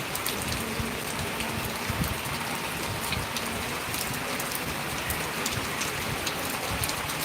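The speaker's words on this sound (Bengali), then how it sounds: "আমাদের এখানে বৃষ্টি হইতে আছে আজকে" Heavy rain pours steadily onto surfaces, a dense continuous hiss of drops with low pattering underneath, close and fairly loud throughout with no voices.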